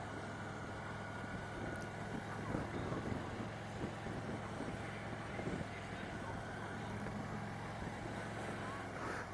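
A high-mileage Harley-Davidson Ultra Classic motorcycle rumbles steadily along a road up a grade, its engine drone mixed with wind noise throughout, while a rider talks over it.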